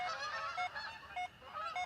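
Canada geese honk overhead outdoors during a metal-detecting session, a quick run of loud, overlapping honks from a small flock close above, with no talk.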